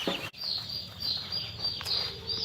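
Seven young turkeys peep and chirp steadily in a poultry barn, with soft high calls overlapping over a constant background hum.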